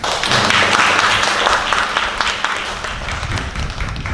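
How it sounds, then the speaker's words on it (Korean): Church congregation at a Korean Thanksgiving Sunday worship service applauding in welcome for a visitor, a dense, sustained round of many hands clapping nearby that gradually thins toward the end. "우리 환영의 박수 하겠습니다"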